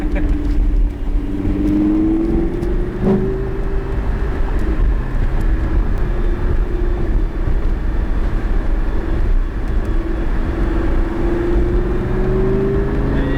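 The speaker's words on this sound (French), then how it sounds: "on accélère" A car accelerating: a loud, steady engine drone whose pitch rises gradually over several seconds, heard close by with no talk over it.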